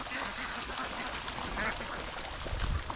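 Domestic ducks quack repeatedly in a busy, overlapping chorus, close and fairly loud, as they return home on their own.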